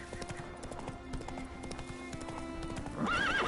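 Roach the horse trots along in Witcher 3, steady clip-clop hoofbeats over a game backdrop, ending in a loud, wavering whinny.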